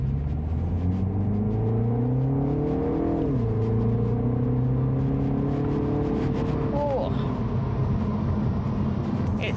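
Car engine in a synthesized go-kart sound mode, revving with rising and falling tonal whine, a sharp drop around the middle then climbing again, loud and continuous with road rumble underneath.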